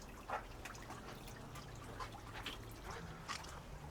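Water drains from a green, algae-filled pool's Jandy filter as a faint steady trickle with scattered soft drips over low background noise, no talking.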